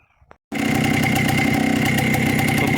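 A Minsk motorcycle with a carburettor fault fires up after a short quiet pause and settles into a loud, steady, slightly rough idle that runs to the end.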